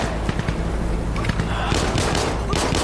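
Dense bursts of gunfire crackle in rapid, overlapping volleys like a firefight, loud and sustained throughout, with no clear break between shots.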